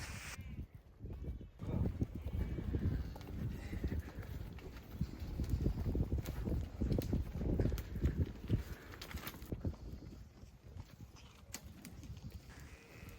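Herd of cattle with cows, calves and young stock walking slowly down a farm lane, soft irregular hoof clops and shuffling steps, fairly faint and distant, with no talk.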